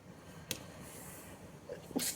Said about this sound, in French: L'éternuement, c'est la purification.